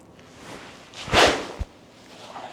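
Golf club practice swing by a long drive golfer, one sharp close whoosh rising and cutting off quickly, followed by a brief thud, with quiet surroundings.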